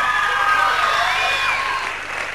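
A television studio audience applauds as a band moves to the music set, a short dense burst of clapping under a host's amplified voice that begins to fade toward the end.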